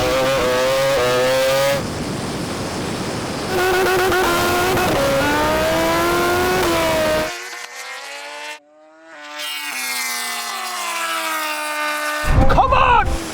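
Car accelerating hard in a drag race, engine note climbing through a gear change before cutting to near silence, then roaring again with a sharp burst at the end.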